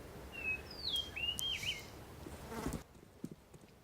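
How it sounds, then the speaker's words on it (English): Counter-Strike map ambience with a bird's sliding whistled chirps over a steady insect-like buzz, fairly close, until the background cuts out abruptly and leaves near silence with a faint click. "I heard that. Those birds chirping."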